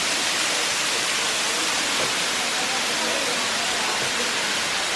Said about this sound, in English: So these are the Canal Falls.